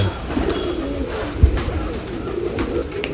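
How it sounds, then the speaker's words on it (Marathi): A large, jumbo-looking pigeon of the pardar type, a Golden Teddy, at the Nashik pigeon festival, heard cooing and fluttering close by over a busy outdoor background, with one sharp thump partway through. "हा शेवट बसलेला कबूतर आहे"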